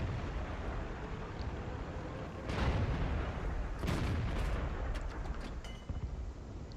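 Tank cannon fire in a video game, with heavy booming blasts and rumbling battle noise from an O-Ni superheavy tank and opposing tanks, loud and dense with a couple of sharp bursts among continuous engine roar.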